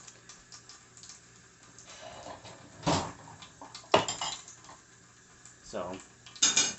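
Silverware, plates, bowls and dishes being washed by hand, with scattered clinks and clatters of cutlery and crockery, a few louder knocks standing out among softer handling noises and brief speech.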